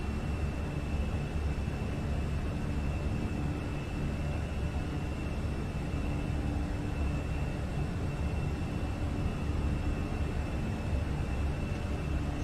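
Airliner jet engines hold climb thrust in a flight simulator, a steady, loud broadband roar with a faint high whine that stays constant throughout with no talk.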